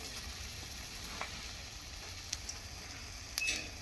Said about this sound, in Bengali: তেলটা গরম হয়ে গেছে। এবার আমি কোপ্তাগুলোকে ঠিক এইভাবে করে আমি ছেড়ে দিচ্ছি।